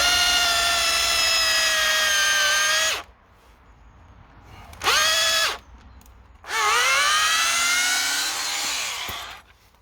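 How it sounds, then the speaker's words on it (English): A power drill with a wood bit whines loudly through a wooden post in three bursts, the pitch sagging under load, with short quiet pauses between runs. "Okay, so you've got your holes drilled in your post"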